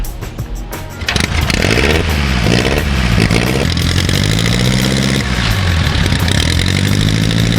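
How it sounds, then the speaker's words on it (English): Antique Henderson motorcycle kicked to life after being pulled from a barn, engine catching after a second and settling into a loud, close, steady idle with rising and falling revs. "I think this Henderson will start right up."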